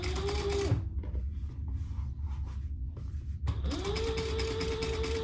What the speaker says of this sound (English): we are going to sew, top stitch that seam open